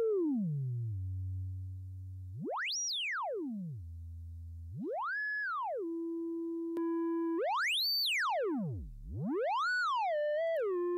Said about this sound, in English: changing to the different filter modes gives you a different tone